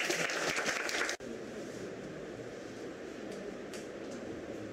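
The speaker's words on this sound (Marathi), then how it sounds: "टाळ्या वाजवणार आहेत, ते जोरदार वाजवा." Applause from an audience at a digital-industry award ceremony, a dense wash of clapping that cuts off sharply after about a second, followed by a low, steady room rumble.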